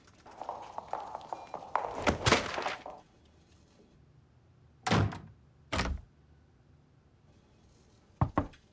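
Someone knocks and bangs on a closed door in scattered bursts: a cluster of heavy thuds, then single dull knocks separated by quiet pauses, close and fairly loud.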